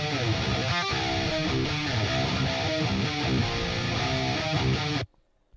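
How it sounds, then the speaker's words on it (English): Unprocessed metal electric guitar tone from the Neural DSP Fortin Nameless suite plays a dense, continuous riff at steady loudness, then cuts off abruptly into silence near the end. "without any processing on it, the guitar tone sounds like this"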